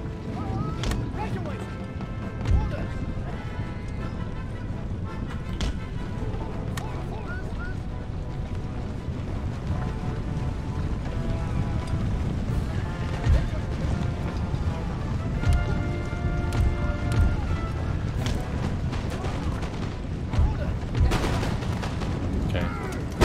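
Ranked musket lines volley fire through trees in Empire: Total War, sustained crackling bursts and booms rolling over wind-like battle ambience beneath continuous talk.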